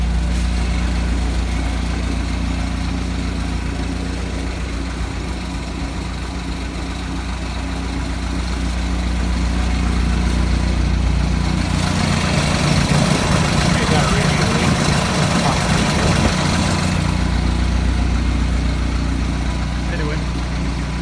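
A Jeep CJ5 idles steadily after a cold start, its low engine drone running continuously and close for about twenty seconds, swelling briefly louder midway.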